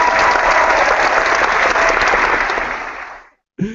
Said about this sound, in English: I'll just give you guys the round of applause you deserve